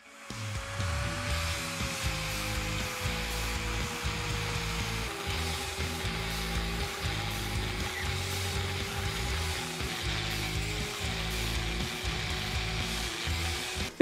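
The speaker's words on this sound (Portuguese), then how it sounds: "Essa peça, então, iremos cortar aqui, aqui, aqui e aqui, para usarmos essas duas partes aqui" A scrap metal piece is cut for a homemade bearing puller, and a power tool drones in a loud, steady whine with a faint gritty undertone that runs unbroken throughout.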